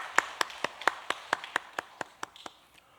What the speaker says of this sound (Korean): 하나님께 감사의 박수 올려드리겠습니다